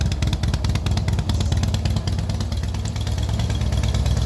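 A Harley-Davidson motorcycle with stock exhaust idles close by with a lumpy, loping rhythmic thump and mechanical clatter, steady and fairly loud, no speech.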